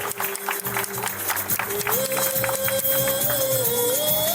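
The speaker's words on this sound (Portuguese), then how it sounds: "Vamos aplaudir" Audience applause honoring Neguinho da Beija-Flor at a walk-of-fame plaque ceremony, a steady wash of clapping mixed with crowd noise and a voice speaking over it throughout.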